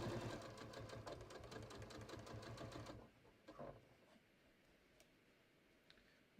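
A sewing machine stitches a patio cushion cover in a steady rapid chatter for about three seconds, then stops, leaving faint handling noises and quiet room tone.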